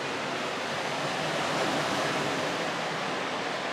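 Sea waves by a seaside hotel, a continuous loud broadband wash of surf, steady and close with no talk.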